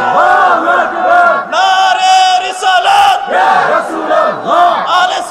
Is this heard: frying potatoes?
no